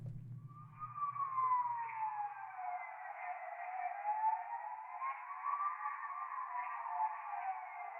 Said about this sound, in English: Sirens going left and right.